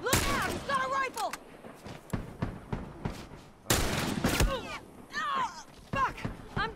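Rapid rifle gunfire rings out in The Last of Us multiplayer, with repeated sharp shots in close bursts and shouted voices over the fight.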